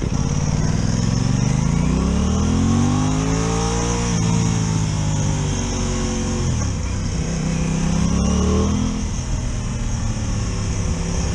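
An Aprilia Tuono 660 Factory motorcycle engine drones steadily while riding, its pitch rising and falling through throttle changes and gear shifts, loud and close with wind rush.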